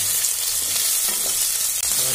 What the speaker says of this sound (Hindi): हमारे आलू बिल्कुल भी फ्राई हो चुके हैं।